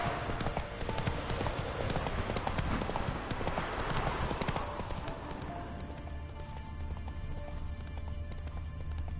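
Hooves of the horse Roach clip-clop at a steady gallop in a PS4 video game, a close and continuous rhythmic beat, with a brief whinny-like tone and faint game ambience underneath.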